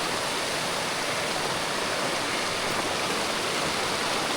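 Cold mountain stream water rushes steadily on a trek from Horton Plains toward Ohiya, a dense, loud, close roar of flowing water with no breaks.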